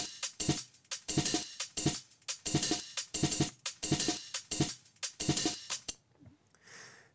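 A mixed percussion loop from a dance-music production, with bright, hissy hi-hat and shaker hits over low thumps, repeating in a steady groove before cutting out near the end to a faint tail.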